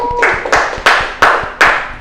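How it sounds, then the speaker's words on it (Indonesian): Five or six claps are spaced fairly evenly, close and clear over a low background murmur. They are applause for a student group presentation in an Islamic religious education class. "beri tepuk tangan untuk kelompok 3"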